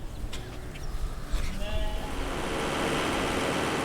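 Sheep on an Ontario dairy sheep farm bleat a few times amid a dense, noisy barn background, the calls brief and partly masked, with a wash of broadband noise swelling toward the end.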